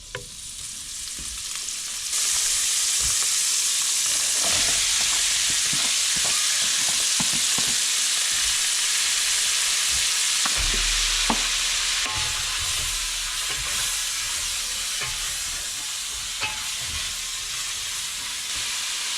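Diced white onion and a stick of butter sizzle and fry steadily in a pot, a loud continuous hiss with occasional stirring clinks, no talking.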